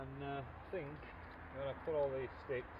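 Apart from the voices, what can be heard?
No distinct noise like a dog, phone or traffic.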